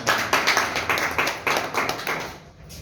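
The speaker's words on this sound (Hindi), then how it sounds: "गांधी जी के लिए भी तालियां होना चाहिए" An audience at an open meeting in Rajdhanwar claps in a short burst of applause, with distinct rhythmic hand claps close by that taper off after about two and a half seconds.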